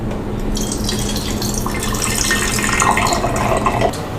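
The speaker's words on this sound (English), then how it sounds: "pour about 100 milliliters of water into the can" About 100 millilitres of water is poured into a can, a steady trickling and splashing that builds slightly in pitch as the can fills, heard alone up close.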